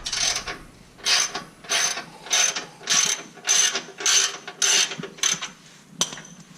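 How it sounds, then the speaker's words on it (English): Ratchet wrench backing out 12mm bolts on a 2016+ Toyota Tacoma bracket, heard as eight rhythmic bursts of close clicking, evenly spaced and fairly loud with brief pauses between strokes. "Then there's 2 12mm bolts here at the bottom. We'll go ahead and remove those to get this bracket off the side."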